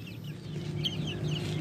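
Backyard chickens cluck in a short, close run of soft repeated calls over a low steady background hum.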